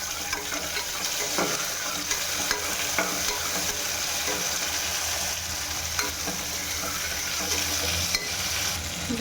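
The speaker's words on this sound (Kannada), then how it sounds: "ಈ ಥರ ಚಟಪಟ ಅನ್ನುವಾಗ ಇದಕ್ಕೆ ಈರುಳ್ಳಿ ಹಾಕೋಣ" Mustard seeds, cumin, onions and green chillies fry in hot oil with a loud, steady crackling sizzle. Light stirring clinks sound close by throughout, and no one speaks.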